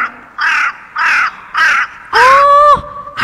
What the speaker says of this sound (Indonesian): itu burung gagak